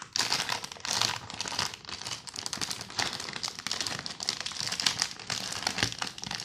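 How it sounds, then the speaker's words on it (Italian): Plastic bag wrapped around a gluten-free burger crinkles and crackles loudly in repeated irregular bursts, close up, with no talk over it. "È incartato dentro a un involucro, un sacchetto di plastica."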